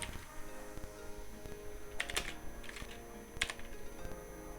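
Text is typed on a computer keyboard while setting up a sliding text animation, a run of close, quick key clicks with a few louder taps, steady and without speech.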